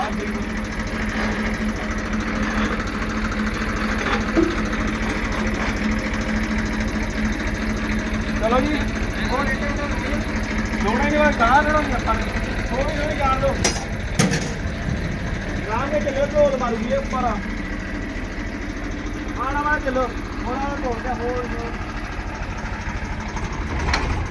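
A tractor engine idles steadily throughout, a constant low rumble, while people talk over it.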